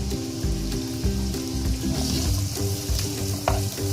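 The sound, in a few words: onions sautéing in oil in a kadhai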